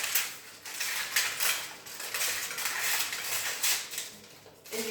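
A knife trimming the edges of pastry dough for a fresh pea tart: a busy run of close scraping and clicking strokes against the board and dish, steady and fairly loud with no talk.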